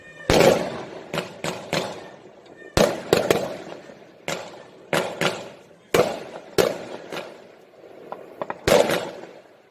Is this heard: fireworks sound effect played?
yes